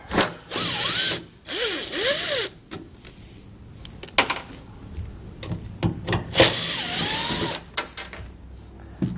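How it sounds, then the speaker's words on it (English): Power driver with a T20 Torx bit backing out tail light fasteners on a 2015 GMC Sierra 1500, close whirring bursts with rising and falling pitch, interspersed with ratcheting clicks and handling noises. "We're going to pull those out using a T20 Torx bit."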